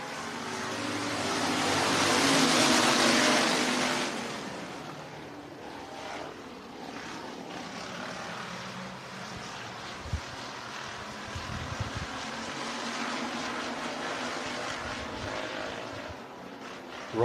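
Hobby stock and sport compact race cars roar past at Hancock County Speedway as green-flag racing begins, a loud rising and falling engine rush swelling then receding, followed by a lower, rougher rumble of cars farther around the track.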